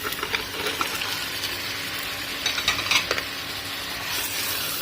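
Mutton pieces fry with tomatoes and chili for a masala chops gravy, giving a dense, close hiss with a few stirring scrapes and clatters, and no voices.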